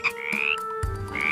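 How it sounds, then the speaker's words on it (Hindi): A frog gives a short, close croak sound effect for a Hindi moral story, a pair of quick rising throaty calls lasting about a second. "मेंढक ने टर टर करना शुरू कर दिया"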